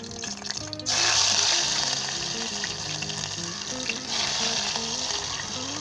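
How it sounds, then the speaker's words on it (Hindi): Garlic frying in 2–3 tablespoons of vegetable oil in a pot, a loud, close, continuous sizzle that rises sharply as the garlic hits the oil. "दोस्तों हमने लहसुन और जो प्याज को ब्राउन नहीं करना, जस्ट 20 से 25 सेकंड के लिए हमने इसे फ्राई करना"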